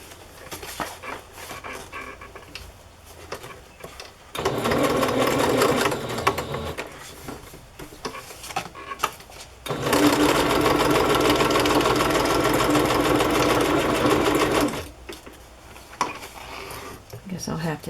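A sewing machine from a big box store, running with a jumping fault, stitches in two long loud bursts while the mechanism chatters steadily, with quieter handling noises and light activity between runs.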